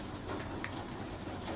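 Breeder pigeons coo softly and at a distance in a brief, faint stretch over steady background noise. No one speaks.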